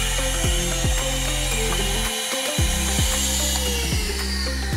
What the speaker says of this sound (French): L'aspirateur a tourné pendant 30 minutes